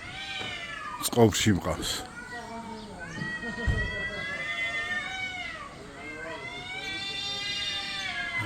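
A cat meows repeatedly in drawn-out, rising and falling calls, close and loud, with people talking over and between the meows.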